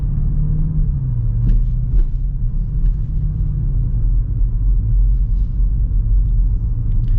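A 2025 BMW X6 M Competition engine runs with a deep, steady low rumble heard from inside the car, smooth and continuous with slight shifts in pitch.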